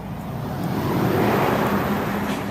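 Traffic on a busy road near Son Caliu, Mallorca: a loud, continuous roadside rush of passing vehicles that swells slightly midway, with no voices.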